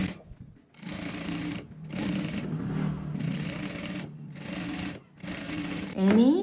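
A sewing machine stitches frock fabric in several loud, close bursts of rapid whirring separated by short pauses, ending with a brief rising squeal.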